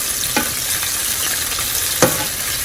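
Chopped onions sizzle steadily in a hot pan while being cooked for Mexican tinga tostadas. A utensil gives two brief scraping stirs against the pan, and no voices are heard.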